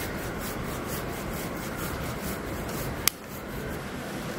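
Block of khoa, the milk solids for fasting gulab jamun, scraped steadily across a grater, giving a continuous close rasping rub with one sharp click near the end.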